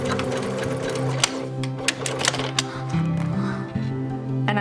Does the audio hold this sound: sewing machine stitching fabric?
yes